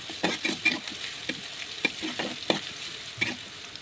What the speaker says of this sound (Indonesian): Setelah itu kita masukkan jahenya di sini, kita tumis sama bawang putihnya ya sampai layu dan keluar wanginya.